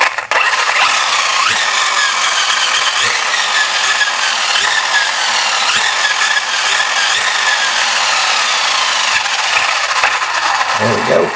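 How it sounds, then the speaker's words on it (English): A Traxxas Rustler 4x4 VXL RC car's rebuilt rear drivetrain spins on test, a loud, steady, high-pitched gear whine running nearly the whole time before cutting off. "give it a little test spin here and let you guys see. You want to listen to the gear and also watch this drive shaft"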